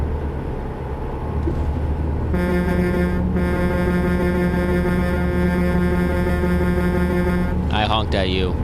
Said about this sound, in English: I honked at you.